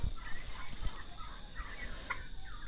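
A group of roughly four-month-old turkeys in a pen, a converted laying-hen house, gobbles and chirps in a faint, overlapping chorus over a steady background hum.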